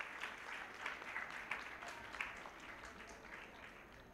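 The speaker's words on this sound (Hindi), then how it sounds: "एक बार और तालियां देने में बिल्कुल ना" Audience applause at a Shri Shakti Parv foundation event, a steady wash of many hands clapping heard from a distance at low volume, with no voices over it.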